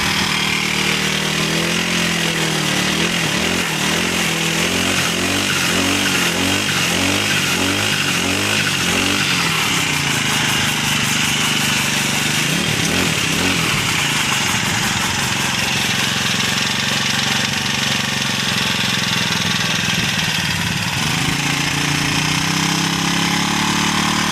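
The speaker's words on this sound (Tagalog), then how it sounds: "napaandar na natin yung ating mower" A lawn mower engine warms up after starting, holding a steady, loud idling drone with a rough, pulsing rattle for the whole stretch and no talking.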